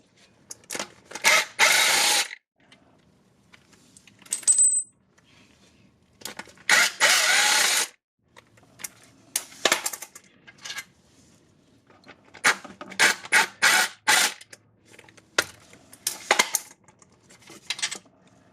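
A ratchet spins out 12 mm bolts during engine block removal on a 2008 Acura MDX, heard as repeated bursts of rapid clicking close up. The bursts come in separate runs with quiet gaps and small metallic clinks between them.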